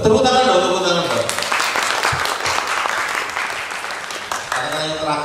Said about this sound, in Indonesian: Tepuk tangan dong, tepuk tangan dong.